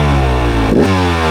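A Beta 250 Race 2026 enduro motorcycle engine revs loudly and close, holding a steady high-pitched two-stroke drone with a quick rise and fall in pitch near the middle.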